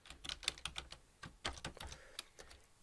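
Rapid, close clicking of keys on a computer keyboard while text is entered in a Python interactive session, with uneven bursts of keystrokes and no talking.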